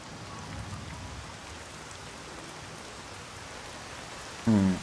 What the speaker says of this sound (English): Oh, now it's raining. Lovely.